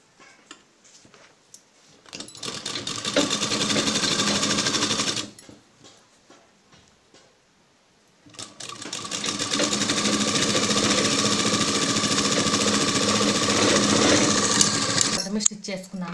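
A sewing machine stitches a dhoti in two long bursts of rapid, even needle chatter, separated by a quiet pause and preceded by soft handling noises, with a voice speaking faintly.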